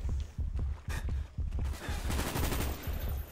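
An RPK machine gun with a drum magazine fires in Call of Duty Black Ops, loud rapid bursts of gunfire rattling almost without pause, with a few short gaps between strings of shots.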